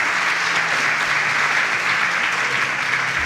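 Steady, dense applause from a competition audience for a young singer named Destiny, continuous and loud throughout with no gaps.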